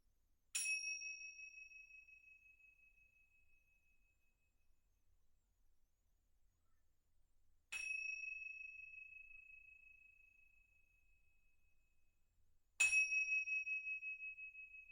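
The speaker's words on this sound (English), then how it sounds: "when the tingsha bell chimes 3" Tingsha bell struck three times, each a clear, bright metallic ring that decays slowly in an otherwise quiet room, with a long gap after the first chime and the last two closer together.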